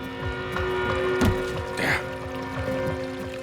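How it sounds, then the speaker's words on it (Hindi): Water pouring or trickling inside a hotel room, a continuous splashing flow with a brief louder gush, heard beneath a steady mechanical hum. "पानी की आवाज।"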